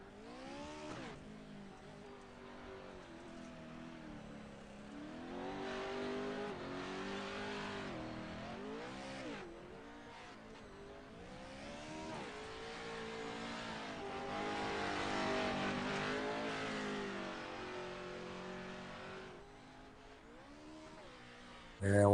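A race car engine in the iRacing sim at Crandon International Raceway's short course, revving up and down through a quick lap with rising and falling pitch sweeps, continuous and fairly distant-sounding, ending in a sudden loud burst.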